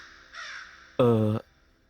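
A crow caws twice nearby, a softer call followed by a loud, harsh one, then quiet.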